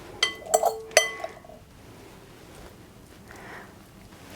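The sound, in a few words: serving courgetti onto a plate, dishes clinking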